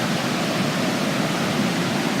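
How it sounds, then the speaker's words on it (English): A river swollen after days of rain rushes past with runoff pouring into it. The steady, broadband watery roar is fairly quiet and even, with no voices. "Got some runoff right here."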